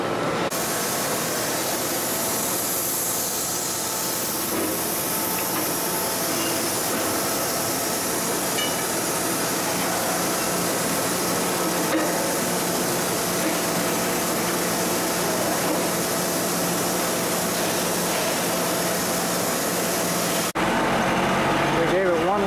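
A larger Vincent fiber filter machine for wastewater runs with a dense, steady mechanical rumble and hiss that fills the whole stretch, changing tone briefly near the end.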